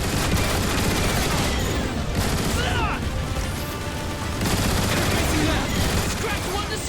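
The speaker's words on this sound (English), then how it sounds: "I think you can take them out with the gun emplacements." Turret gun emplacements firing in Transformers: War for Cybertron, a dense, steady barrage of rapid gunfire and booms that runs throughout, with a brief lull mid-clip, mixed with game effects.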